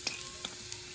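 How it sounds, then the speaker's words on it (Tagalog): Garlic frying in hot oil gives a soft, steady sizzle with a few faint crackles, quiet and close, with no talk over it. "magpainit tayo ng oil and then put the bawang"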